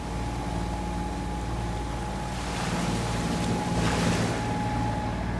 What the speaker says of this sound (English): This is all very turbulent water here.